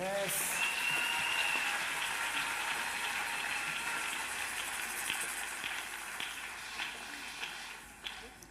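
A church congregation at a French-language worship service applauds in a sustained, wash-like roar of clapping that holds steady, then thins and tapers off toward the end.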